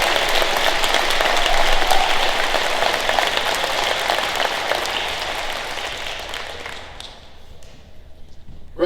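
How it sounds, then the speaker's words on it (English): Audience at an 8th grade promotion ceremony applauds rising freshmen with loud, sustained clapping that fades slightly near the end. "we give these rising freshmen a round of applause"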